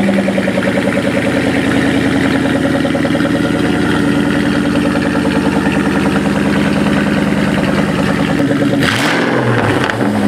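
A Ford Mustang Cobra engine fitted with a new throttle body idles loud and close right after starting, a steady throbbing rumble that holds evenly before a brief disturbance near the end.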